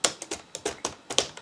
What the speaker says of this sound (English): I hit the key. The C key, I hit it